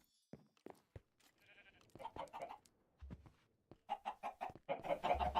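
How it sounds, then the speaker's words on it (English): A Minecraft chicken clucks in short, choppy bursts, sparse at first and then denser and louder toward the end, mixed with a few quick clicks. "The chicken's grown yet?"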